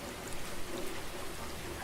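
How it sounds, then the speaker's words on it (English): Steady rain drums on the roof of a TV studio, a dense, even patter with a soft wash of noise and no voices over it. "I think that's the sound of rain on the roof of the studio."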